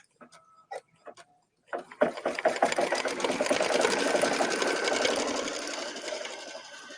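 A few beeps from the machine's controls come first, then an embroidery machine starts stitching a peach design onto mesh netting, its rapid steady needle chatter building loud and close before easing slightly.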